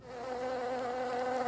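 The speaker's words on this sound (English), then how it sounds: "Yes, I want to hear bee sounds." A bee buzzes in a steady, close drone that swells in over the first moment and then holds constant for the rest of the short sound, with no voices.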